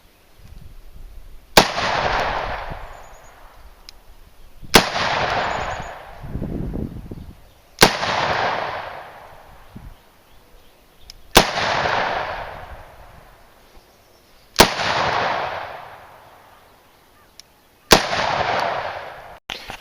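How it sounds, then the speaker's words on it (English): Six loud, sharp shots from .44 Magnum revolvers, a Taurus and a Ruger Super Redhawk, fired outdoors about every three seconds, each crack followed by a rolling echo. "I've shot both of these revolvers"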